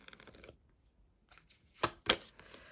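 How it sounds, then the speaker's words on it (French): Tarot card drawn from the deck, soft papery shuffling near the start followed by two sharp, close card snaps after a quiet pause. "je vais prendre une carte pour l'énergie principale de la semaine"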